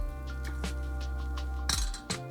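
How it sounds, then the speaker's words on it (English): Metal utensil clinks and scrapes against a pot of lentil soup several times, with a steady low hum of a simmer underneath and a louder clank near the end. "I'm gonna give it one last stir"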